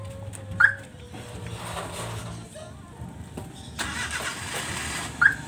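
A Suzuki mini van is started by remote key fob: a short chirp, then the engine cranks and settles into a steady idle, ending with another chirp, heard nearby outdoors.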